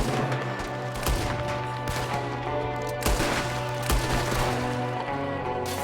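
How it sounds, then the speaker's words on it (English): Video game gunfire in Red Dead Redemption 2, a shootout with an enemy firing from a window: several sharp, loud shots spaced about a second apart over a steady musical drone. "There's another one shooting from the window."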